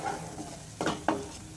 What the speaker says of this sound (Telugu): ఇప్పుడు వీటన్నిటిని ఒకసారి బాగా కలుపుకుందామండి.